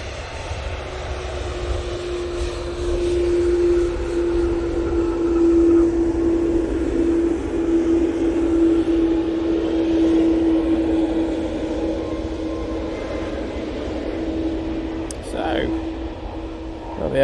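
A TUI airliner taxiing past plane spotters at Manchester Airport, a steady loud jet engine whine and rumble holding close by for most of the time before easing slightly at the end.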